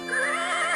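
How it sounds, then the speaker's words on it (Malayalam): A cartoon horse gives a short, bright whinny that lasts under a second, close and clear with no other sound around it. "ഓടടാ നീ എന്റെ കുതിരേ."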